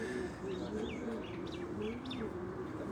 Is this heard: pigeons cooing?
yes